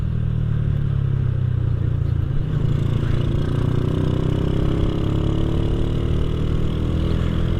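An Astrea Grand motorcycle engine fitted with a Jupiter Z carburetor runs close by with a steady, continuous drone, its pitch creeping slightly upward as it revs.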